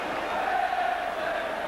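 Football crowd at Liverpool v Southampton in the 1990 FA Cup roaring after a Peter Beardsley goal, a loud, continuous distant stadium roar with a sustained cheering tone.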